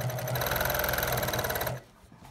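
A sewing machine stitches a t-shirt quilt, running steadily with a dense, even mechanical whir for nearly two seconds before stopping abruptly into quiet.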